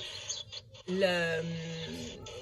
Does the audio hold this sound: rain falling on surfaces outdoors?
no